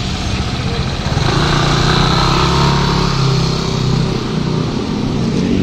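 A Jinhao motorcycle engine runs close by, a loud, steady rumbling drone that holds fairly even throughout with slight swells in intensity and no speech over it.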